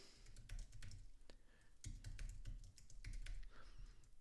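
Fingers tap out a name on a computer keyboard, a steady run of close, crisp key clicks with a few heavier presses.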